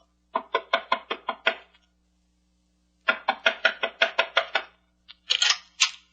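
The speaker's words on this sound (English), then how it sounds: "Knock on the door, Shannon. This gun says knock." Two bursts of sharp knuckle raps on a wooden door in a radio drama, about seven quick knocks, a pause, then another run of seven or eight, followed by a couple of brighter clacks.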